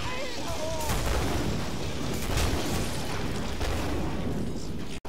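Dense, continuous gunfire and booming blasts fill the Killing Floor video game, a loud sustained barrage of overlapping shots and explosions that ends in a sudden cut.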